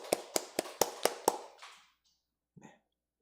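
A church congregation claps six times in a quick, even rhythm, close and crisp, then falls silent apart from a brief faint sound near the end.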